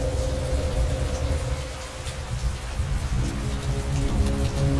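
Heavy rain pours steadily and loudly, a dense, continuous hiss with no voices.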